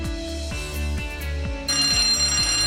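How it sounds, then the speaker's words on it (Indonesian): An electric fire alarm bell triggered from a manual call point rings continuously and loudly, a harsh rapid metallic clatter that steps up in intensity partway through, with no voices. "menekan tombol manual call point agar alarm tanda bahaya menyala sebagai pemberi peringatan terjadinya kebakaran"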